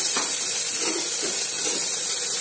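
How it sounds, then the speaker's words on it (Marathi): Masala paste of ginger, garlic and coriander fries in a pan with a steady close hiss and sizzle, broken by a few faint soft stirring scrapes, with no voices. "मसाला चांगला शिजू द्यायचा"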